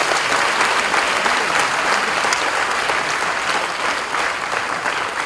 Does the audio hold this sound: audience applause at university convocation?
yes